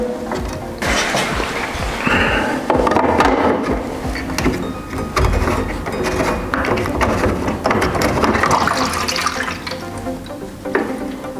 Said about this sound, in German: Die Auffangschale können wir jetzt mal ausleeren.